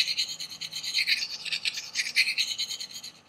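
Rapid side-to-side scraping strokes of a knife edge across a whetstone, held perpendicular, forming a steady raspy rhythm of close, moderately quiet rubs with no talking.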